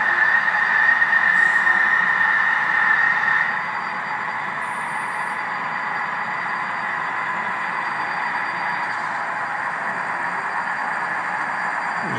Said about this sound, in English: I'm just going to sit here and let you see the whole train now